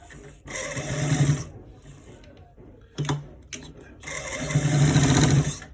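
A sewing machine stitching a trouser front pocket runs in close, loud bursts: a long run, a short pause, a quick burst with clicks, then another sustained run, each with a buzzing motor hum and rapid needle chatter.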